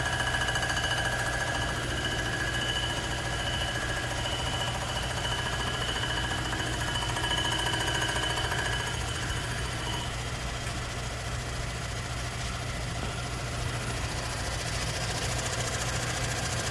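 A surfacing machine cutting a warped Mopar 452 cylinder head, a steady mechanical hum and whine with a faint tonal scrape as the cutter touches down, continuous and moderately loud.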